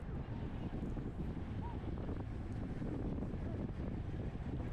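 Steady, blustery wind roars across the microphone as a road cyclist rides close to 30 mph into a headwind during a Cat 4 race.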